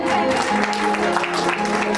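Audience at a women's day event by a social organisation claps briefly and steadily, a dense patter of hands under a faint voice.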